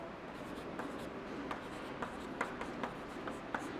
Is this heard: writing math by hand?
yes